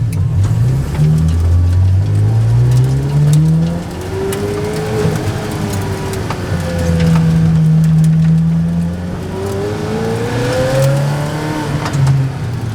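Ferrari F430 with a straight-pipe exhaust revving hard, loud and close, its pitch sweeping up and down through repeated rises under load with a raw, rasping tone and no talk.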